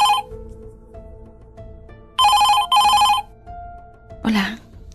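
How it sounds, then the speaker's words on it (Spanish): An old-style telephone bell rings in short bursts, two loud rings close together, heard near and clear with a brief voice afterward. "El teléfono hizo que se sobresaltara."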